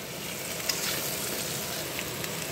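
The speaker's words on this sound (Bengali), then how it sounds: "সোয়াবিনটাকে দিয়ে আবার হালকাভাবে কষে নেব।" Soybean chunks frying in a pan, a steady close sizzle with faint stirring scrapes, continuous throughout with no talk.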